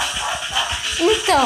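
A dog whimpers and yips close by, with high whining tones near the end, while a person speaks over it.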